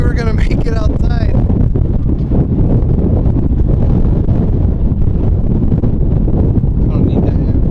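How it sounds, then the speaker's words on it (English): Loud, steady wind buffets the microphone outdoors on the Las Vegas Strip, a constant low roar, with a voice speaking briefly near the start and again at the end. "Why is it so windy all of a sudden?"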